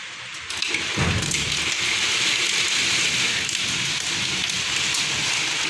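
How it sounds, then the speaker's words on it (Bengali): Heavy rain pours down outside a window, a dense, loud, continuous hiss of drops striking surfaces close by, with a brief louder burst near the start and no talking. "প্রচুর বৃষ্টি হচ্ছে, প্রচুর পরিমাণে।"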